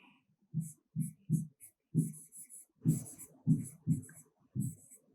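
Pen strokes scratch on paper in a classroom science lesson, a quiet series of short, rhythmic scribbles with brief pauses as notes are written.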